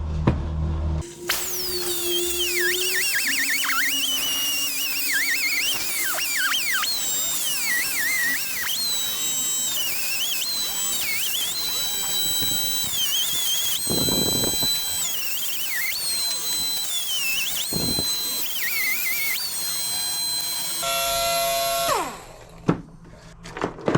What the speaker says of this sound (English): it looks like we're going to have to cut that mount away as well